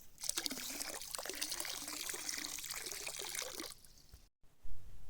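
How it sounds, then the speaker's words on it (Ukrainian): Diluted flocculant mixed with pool water is poured into a swimming pool around its edge, a steady liquid splash and trickle lasting several seconds before stopping, heard up close with no talking. "І розливаємо по периметру."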